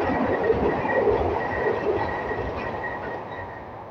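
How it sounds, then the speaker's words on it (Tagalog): A train rumbles past near Tsing Ma Bridge, a steady broad roar of rolling wheels and carriages heard from outdoors, fairly loud and continuous without voices. "Ayan ang train."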